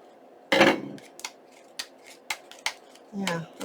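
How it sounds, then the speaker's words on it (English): Scissors snip through a clump of glue on collaged journal pages in short sharp bursts, a louder initial cut followed by quieter clicks and a final heavier crunch. "I think we're going to have to cut that with our scissors"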